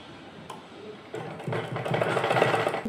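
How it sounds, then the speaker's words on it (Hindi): A sewing machine stitches pieces of a small summer doll dress for a Kanha ji figure together, its motor whirring steadily and growing louder and busier through the second half, with no talk over it. "ये मैंने इसको इस पे सिल दिया है।"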